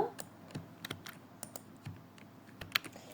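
Rapid, uneven clicks of a computer keyboard as Python code is typed, close and fairly quiet, with short bursts of keystrokes and one sharper clack near the end.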